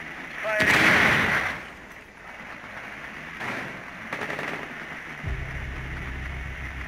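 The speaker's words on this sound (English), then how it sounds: "Charge going up. Detonate." A breaching charge detonates in Rainbow Six Siege during a team deathmatch on the House map, giving one loud burst early followed by quieter thuds and a low rumble, with players talking over it.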